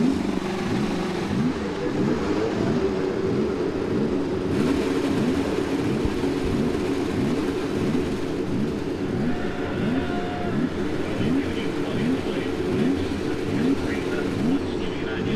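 A field of IndyCar race cars fires up on the grid at the Phoenix Grand Prix oval, many engines idling and blipping together in a steady, overlapping drone with wavering revs.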